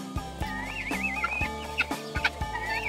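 Dekalb Brown chickens cluck and chatter close by in a busy, overlapping flock, with soft repeated clucks and higher warbling calls over a steady background hum.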